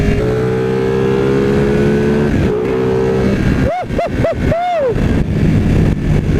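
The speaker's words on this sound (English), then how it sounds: "That engine, dude." 2016 Ducati 959 Panigale motorcycle engine, a loud steady drone that breaks into several sharp revving blips rising and falling in pitch, close and dominant.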